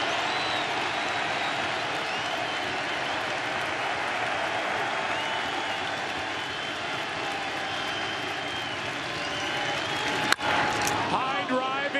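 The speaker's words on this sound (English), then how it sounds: "This crowd is revved up." Big World Series baseball crowd roaring steadily throughout, a broad sustained wash of cheering with a brief sharp crack near the end and faint commentary voices underneath.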